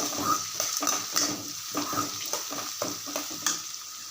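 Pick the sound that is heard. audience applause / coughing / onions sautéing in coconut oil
onions sautéing in coconut oil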